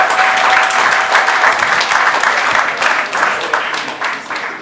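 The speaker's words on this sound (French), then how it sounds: "On applaudit encore." Audience applause at a trophy ceremony for charity ambassadors of Radio Maria, dense sustained clapping from a sizeable crowd, loud and close, tapering slightly at the end.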